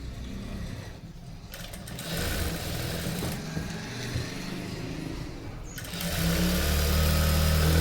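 A sewing machine stitching a blouse runs in bursts, with brief pauses, then speeds into a steady, fast, close whirring buzz.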